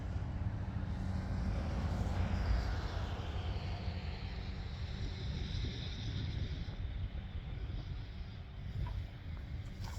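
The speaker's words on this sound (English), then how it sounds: "Let me let this vehicle go by here." A steady engine drone rumbles by at a distance under outdoor wind noise in the Yukon, lingering and slowly fading over several seconds.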